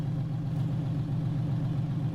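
A Peterbilt 378 truck engine in American Truck Simulator idles with a steady, low, even rumble, unchanging over a couple of seconds.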